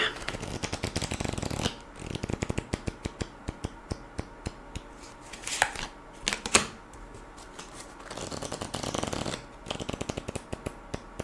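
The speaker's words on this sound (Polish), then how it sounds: "Wyciągamy karty i sprawdzamy." Playing cards being drawn and handled during a tarot-style reading, giving dense runs of rapid crisp flicks and shuffling riffles in several bursts, close and fairly loud with no talk.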